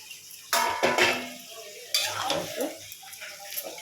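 A soybean curry is stirred in a cooking pot. Two bursts of scraping and clatter from the spoon stand out, followed by lighter stirring and a faint sizzle, heard nearby with quiet household background.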